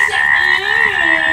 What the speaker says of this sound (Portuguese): Ai, uma rã, para!